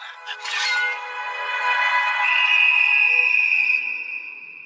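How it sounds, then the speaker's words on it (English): A referee's whistle sounds in an anime match, a bright sustained shrill tone that rises and holds for several seconds with a chiming edge, loud and with no talk over it. "There's the whistle! Once it's blown, we know the judges have declared a victor!"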